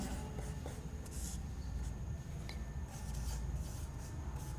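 Pen scratching steadily across paper while a Hindi grammar definition is being written, a continuous soft rasping with small strokes and pauses, close and fairly quiet with no talk.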